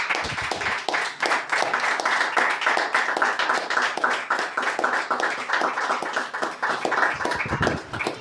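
Hands of a church congregation clapping in sustained, dense rhythmic applause that runs without a break for several seconds, close and loud, with no speech on top.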